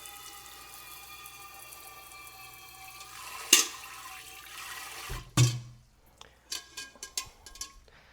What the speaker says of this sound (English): maybe I'll turn the water off